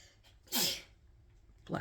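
A person sneezes once, a sharp close burst, followed moments later by a breath or the start of speech.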